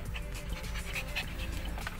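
A small pet dog at a veterinary clinic pants steadily and close by, with a faint whimper and a yawn-like breath blending into the rhythmic huffing.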